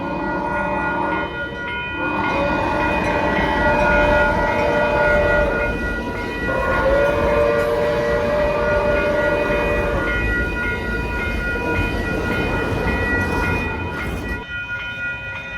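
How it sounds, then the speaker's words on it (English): A train rumbles past close by near San Clemente beach, its wheels grinding steadily on the rails, with drawn-out horn tones sounding over the noise for several seconds. "And then you have this train or whatever coming through here."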